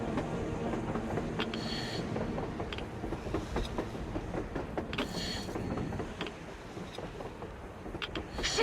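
A train rolls past in the post-apocalyptic shooter Metro Exodus, a steady rumble with faint rhythmic clacks and brief metallic squeals, holding at an even, fairly close level throughout.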